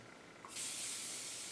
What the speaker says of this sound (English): setting spray, what is it called? Continuous Setting Mist.